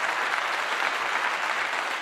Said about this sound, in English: I'm giving you a clap, everybody.